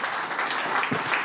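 An audience applauds at a Rockingham County commissioners meeting, a dense burst of many hands clapping at once, loud and close, with no voices over it.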